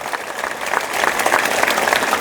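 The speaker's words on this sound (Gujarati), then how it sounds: "ફરી એકવાર જોરદાર તાળી થઈ શિક્ષકો માટે" Loud, enthusiastic applause for the teachers at a school prize distribution ceremony at a Swaminarayan Vidyamandir in Navsari, a dense crowd of clapping that swells slightly and keeps going throughout.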